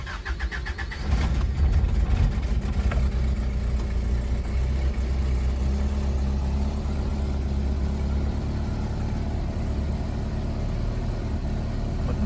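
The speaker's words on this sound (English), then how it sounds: "Try cold starting with the rebuilt idle air control valve." A 1988 Isuzu Trooper engine with a rebuilt idle air control valve cold-starts with a brief cranking whir, then catches and settles into a loud, steady, close idle that holds for the rest of the stretch.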